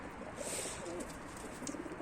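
Pigeons coo softly amid a dense, steady hum of many birds at a coop, a close, continuous flock sound with no talking.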